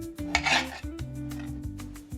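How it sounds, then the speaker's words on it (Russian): A knife slicing pork into pieces on a board for kharcho soup: a series of close, rasping cuts and light knocks in an uneven rhythm, fairly quiet, with no talking. "Сейчас мы займемся нарезкой мяса."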